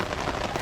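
Steady rain falling outdoors in a conservation area during a planned picnic, a dense even hiss of drops on surfaces close by, constant and alone with no voices.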